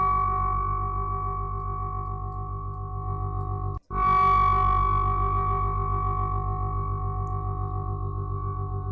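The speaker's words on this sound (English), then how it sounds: "So I'm going to distort this EQ'd sound here." A bass guitar processed through EQ and distortion drones as a sustained, buzzy, harmonically rich tone, cutting out briefly near the middle before resuming with a brighter, grittier edge and a slight pulsing wobble.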